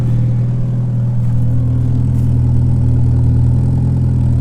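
A Mitsubishi Lancer Evolution V's engine with Kelford cams idles loudly and steadily up close, its deep, lumpy exhaust burble pulsing unevenly with no talking.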